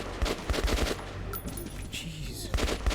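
Automatic gunfire in the video game Metro 2033 rattles in quick bursts at the start and end, loud and close, with a quieter gap in between.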